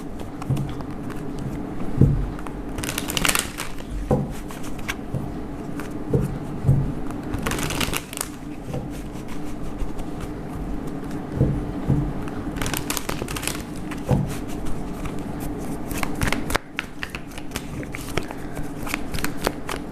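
Tarot cards are shuffled close by in repeated riffling bursts, with soft papery patter and brushing between the bursts.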